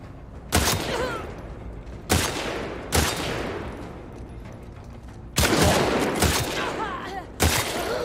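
Gunfire in The Last of Us Part II, several loud separate bursts of shots close by, some single cracks and some longer volleys, with quieter gaps between them.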